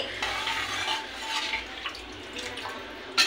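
Water is poured into a pan with turmeric for tomato upma made with bombay rava, a continuous close splashing and gushing pour that settles into light bubbling.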